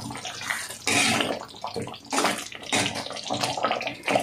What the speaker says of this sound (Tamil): இப்போ இந்த குழம்பு நல்லா கொதிச்சு வரட்டும்.